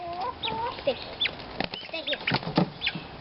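A chicken clucks and squawks in short bursts while its wings flap and rustle close by, just before being bathed in soapy water; a person speaks briefly.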